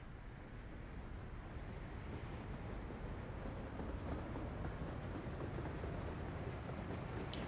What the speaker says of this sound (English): Oh, look, another train is coming.